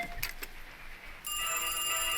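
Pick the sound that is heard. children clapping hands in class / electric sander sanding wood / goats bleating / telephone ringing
telephone ringing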